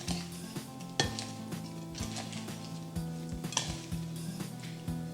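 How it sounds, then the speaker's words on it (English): Raw shrimp get tossed with seasoning in a bowl, making wet squelching and rhythmic clinks of a utensil against the bowl, close and fairly loud with no talking. "You really want to give this a good mix so that the shrimps get well coated with the seasoning."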